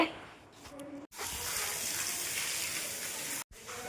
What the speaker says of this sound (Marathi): नळ आली आहे